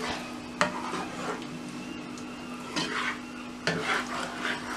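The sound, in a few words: stirring and sautéing masala with mutton in pot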